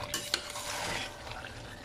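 Hot tadka tempering poured onto biryani in a home kitchen, giving a brief sharp crackle followed by a steady close sizzle with a light metallic clink near the start.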